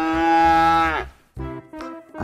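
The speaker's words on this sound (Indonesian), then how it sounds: "ini ibunya teman-teman, ibu sapi Australia teman-teman," An Australian mother cow gives one long, loud, drawn-out moo, followed by two shorter, lower lowing calls close by, with no talking.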